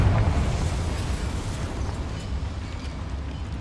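A Confringo spell blast in the video game Hogwarts Legacy, a loud, dense, rumbling explosion that fills the whole moment and slowly tapers off, with no voices over it.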